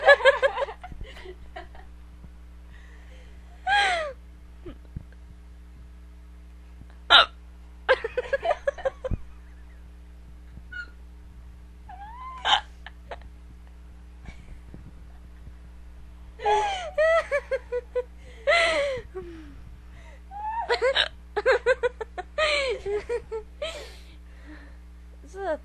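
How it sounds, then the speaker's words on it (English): A woman's hiccups come as sharp, sudden gasps scattered across the stretch, some isolated and some in clusters, close to the microphone and mixed with breathy laughter and other people talking over a low steady hum. "she has the hiccups"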